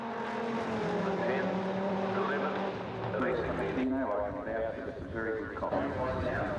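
An 8-litre V10 Dodge Viper accelerates hard on a 400-metre drag strip, its engine roaring continuously and rising in pitch. A narrator talks over the engine throughout.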